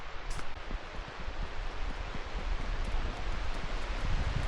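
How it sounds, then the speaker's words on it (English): Distant waterfalls roar through the trees as a broad, continuous wash of noise, steady and moderately faint, with light rustling over it and no voices. "I can hear the waterfalls."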